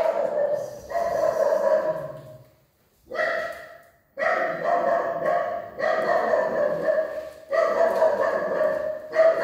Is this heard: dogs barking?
yes